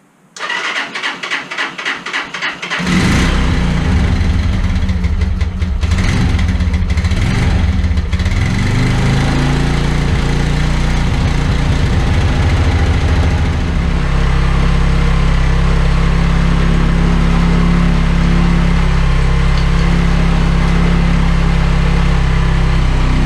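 A SYM XS 125cc motorbike engine, its carburettor just cleaned, is started after a few seconds of starter clicking, then catches and settles into a loud, steady idle close by with slight fluctuations.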